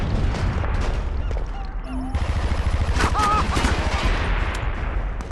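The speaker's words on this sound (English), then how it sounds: "that was how firing from the hip works" Rapid automatic gunfire fired from the hip in the SOCOM 4 multiplayer beta, a loud sustained burst of shots with booming impacts, continuous across the clip.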